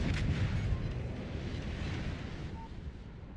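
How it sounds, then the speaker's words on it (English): Warship guns firing in World of Warships Legends, a loud, heavy rumble of naval gunfire that is strongest in the opening moments and then rolls on as a sustained, booming wash of battle noise. "I'm just frantically shooting anything I can shoot"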